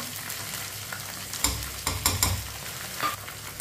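Garlic cloves and finely chopped green chillies sizzle steadily in hot oil, with a few louder bursts of crackle and stirring scrapes against the pan partway through, for a tinda vegetable dish.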